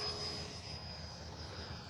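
A radio-controlled F-86 Sabre model jet with a 64mm electric ducted fan flies at sunset, giving a steady, moderately distant whine and whoosh that holds even across the moment.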